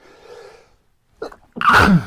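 A loud, sharp sneeze after a short sniffling inhale, with faint murmuring earlier; close and sudden.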